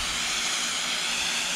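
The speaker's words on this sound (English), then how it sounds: "So I'm just gonna mist these things in good." A Foggit misting nozzle spraying water onto fig cuttings, giving a close, continuous airy hiss for a brief moment without talk.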